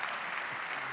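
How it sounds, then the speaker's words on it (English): Audience applause at an education conference Q&A session, a brief, steady round of clapping filling the room with no speech over it. "Clap for Durrell. Do it again."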